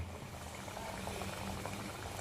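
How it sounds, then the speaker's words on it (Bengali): Arsa pitha frying in oil over lowered gas, a soft, steady bubbling sizzle that stays faint and even throughout, without talk. "এইভাবে আমরা প্রত্যেকটাই ভেজে নেব"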